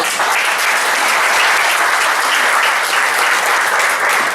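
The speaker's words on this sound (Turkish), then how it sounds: "Gişkat ve Koskev'i alkışlıyor" Loud, sustained applause from an audience at a public meeting, dense steady clapping filling the whole stretch with no voices over it.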